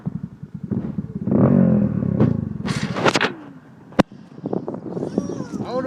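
A small kid's ATV engine runs low and rumbling in first gear, swelling briefly as it revs, with a voice talking close by throughout and a sharp clack near the end.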